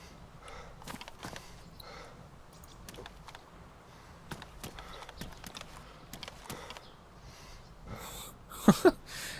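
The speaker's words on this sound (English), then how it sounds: "it's probably just my own footsteps, of course" Footsteps of a player character in the video game DayZ, a run of irregular crunchy steps moving over rough ground at a steady pace, with a few louder, sharper knocks near the end.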